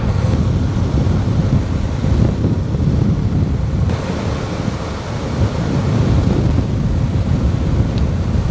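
Strong wind buffets the microphone during an ultra-distance road cycling ride through a valley, a loud continuous low roar that surges and eases with no one talking.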